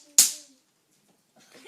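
A doubled leather belt snapped once into a single sharp, loud crack that rings out briefly, followed by silence and a faint rustle near the end.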